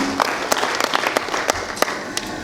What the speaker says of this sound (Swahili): So nipigie makofi kidogo na mimi.